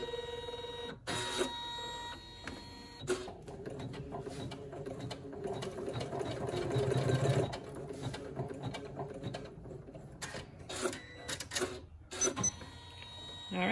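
An embroidery machine stitches pocket placement marks in an in-the-hoop project, a fast, continuous mechanical whir with rapid needle clatter that stops and restarts several times, loud and close.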